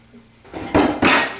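A medium pot and a large pan are picked up and handled in a kitchen, making two quick, close metallic clatters after a brief shuffle.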